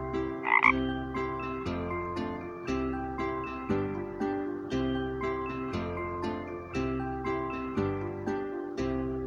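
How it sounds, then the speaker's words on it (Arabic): One brief frog croak sounds at the very beginning over the rhythmic backing of an Arabic alphabet song for children, and the music carries on alone afterward. "ضاد ضفدع"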